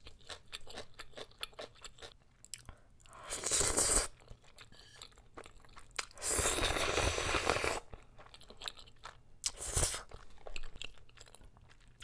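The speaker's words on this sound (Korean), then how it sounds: "치즈 덩어리를 먹어버렸어요." Eating spicy Korean black bean noodles mixed with cheddar cheese, close wet chewing and slurping with a few louder bursts of crunching, heard alone without talking.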